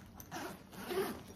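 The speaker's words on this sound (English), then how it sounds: "there's a top compartment up here" The zipper on the top compartment of a large Motiv Abyss backpack is pulled in two short, rasping strokes that run just over a second, close and moderately loud, with no voices.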